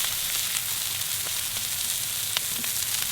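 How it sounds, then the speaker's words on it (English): Lamb lollipop chops sear on a hot soapstone, producing a steady, loud, close sizzle with small pops and crackles throughout and no talking. "We're looking for a sear, whether you're inside on the cast iron or outside over the grill, for about a minute on each side."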